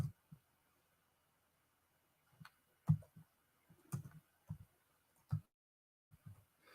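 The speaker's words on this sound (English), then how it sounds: "This typing's driving me nuts." Keystrokes on a computer keyboard during kernel debugging work, sounding as sparse, uneven clicks and taps in small clusters, fairly close and quiet against a silent background.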